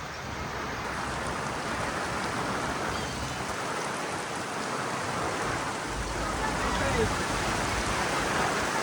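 Heavy cyclone rain pouring down in Sangvi near Tuljapur in a continuous dense hiss, swelling slightly louder toward the end.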